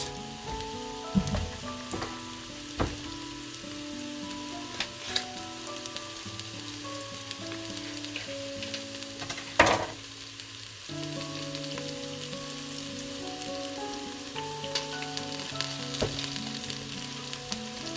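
Ingredients for a homestyle lamb curry sizzle and brown in the base of a cooker, a steady soft frying crackle with occasional clinks and knocks of utensils, no talking.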